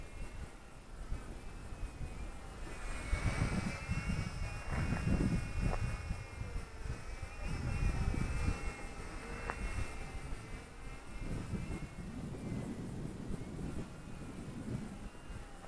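A small Eachine E130 4-channel, 6-axis gyro-stabilized RC helicopter flies outdoors in gusty wind, giving a steady, insect-like whine that rises and falls in pitch with wind noise underneath and no talking.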